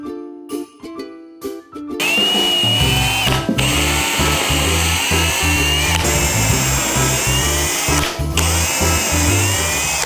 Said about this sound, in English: I just drilled the hole a little bit to the side of the top point